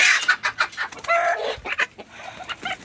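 Brahma chickens cluck close by in a run, a quick series of soft clucks and short squawks with uneven rhythm and no speech.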